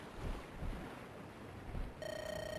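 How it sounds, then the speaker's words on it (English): Underground river rushing through a cave in the video game Andaron Saga, a steady broad wash of flowing water heard alone, with a bright chiming tone entering near the end. "An underground river."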